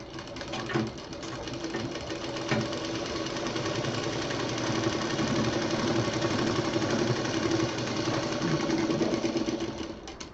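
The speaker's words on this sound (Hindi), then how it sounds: "यहाँ पर ये सिलाई पलटते हुए इसको हम मशीन चला देंगे ताकि ये मजबूत हो जाए" A sewing machine runs steadily, stitching a round cushion seam with a fast continuous mechanical chatter that stays close and loud throughout.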